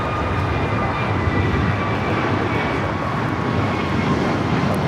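A jet airliner takes off from runway 25 Right at LAX, its engines a loud, steady roar held close and constant through the whole stretch, with no voices heard.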